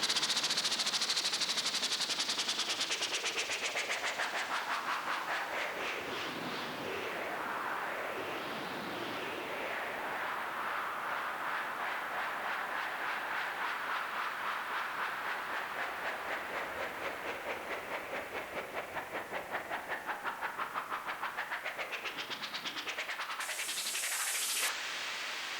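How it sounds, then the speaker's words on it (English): Whitish noise layer processed through tape delay and flutter, a steady hiss that swells and dips in slow sweeping waves, alone and fairly quiet for the whole stretch. "So altogether, the whitish noise layer sounds like this."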